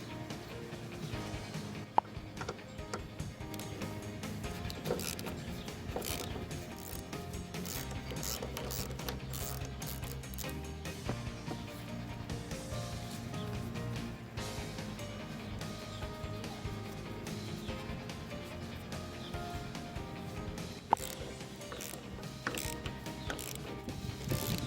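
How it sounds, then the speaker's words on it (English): Steady ratchet clicking and metallic wrench work as strut tower nuts come off a 2006–2011 Chevy HHR front strut, with the mechanical clatter running continuously and close-up throughout. "we have to remove all 3 of them in order to remove the strut"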